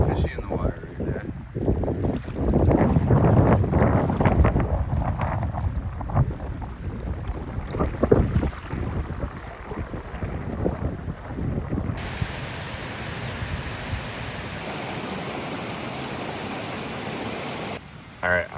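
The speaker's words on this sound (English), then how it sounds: "The wind is starting to pick up pretty good." Wind gusting across a lake in the Maine North Woods, a steady broadband rush with buffeting on the microphone and lapping water, loud through the first half and easing later, with no talk.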